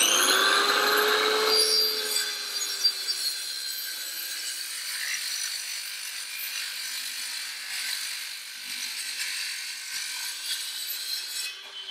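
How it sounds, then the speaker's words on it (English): A saw cutting a series of closely spaced kerfs into timber, making a continuous rasping, whining buzz that starts loud and settles to a steady grind, with no talk. "Then I'm going to do lots more cuts so I can take that section of timber away"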